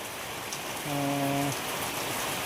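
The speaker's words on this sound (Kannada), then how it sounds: "ಮಳೆ ಹೊಂಟದ ನೋಡಿರಿ" Steady rain hisses across the whole stretch, close and fairly even, with a brief tonal hum partway through.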